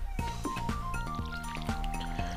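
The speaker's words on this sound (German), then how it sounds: "Dann gießen wir mal." Crops watered with a watering can in Stardew Valley: a quick series of splashing, dripping water sounds repeating in a steady rhythm over cheerful background music.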